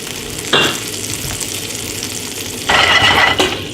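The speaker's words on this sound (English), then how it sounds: "I'm gonna add some white wine" A splash of white wine hits garlic cooking in olive oil, setting off a loud, bright sizzle in two bursts, with a steady lower fry between them and no talking.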